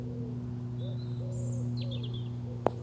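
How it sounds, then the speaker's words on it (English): Faint bird chirps and short calls come and go over a steady low hum at a golf tournament course, with one sharp click near the end. "Nice to hear the birds singing away"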